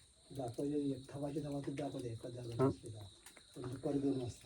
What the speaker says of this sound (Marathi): मस्त पक्ष्यांचा वगैरे आवाज येतो आहे फिलबिलाट चालला आहे